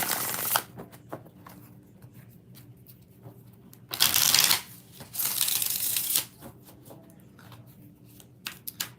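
A deck of tarot cards is shuffled by hand in several bursts, crisp riffling rushes up close with quieter flicking and tapping between them and no talk.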